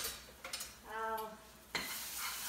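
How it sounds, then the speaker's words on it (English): Garlic being stirred in a pan over moderate heat, with a soft sizzle of frying and a couple of scraping utensil strokes against the pan, close and fairly quiet, no talk. "give that a little stir"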